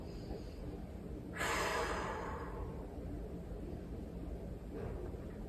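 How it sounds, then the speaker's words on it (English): One audible breath drawn in and let out during a seniors' arm stretching exercise, a soft airy rush lasting under a second, then quiet room tone, with a faint second breath near the end. "Breathing in and out."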